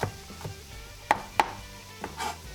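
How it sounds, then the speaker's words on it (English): Two cloves of garlic being finely minced with a knife, heard as a few sparse, sharp chops on the board over a quiet background. "we'll just mince the garlic up really fine"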